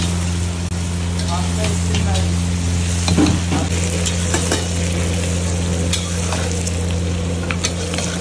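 Chili chicken fritters are tossed in a pan with frying onion, capsicum and green chilies, giving a loud continuous sizzle and repeated stirring scrapes against a steady low burner hum, close up.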